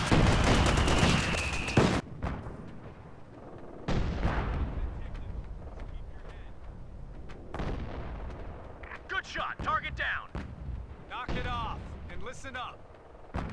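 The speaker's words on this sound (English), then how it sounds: "Infantry, nail them with the MG." Company of Heroes 2 battle with bursts of artillery fire and gunfire, loud blasts then quieter stretches and rumbling impacts, with voices shouting over the combat.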